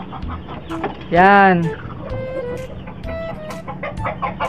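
A hen gives a loud, strained squawk then softer clucks, with a person speaking briefly nearby.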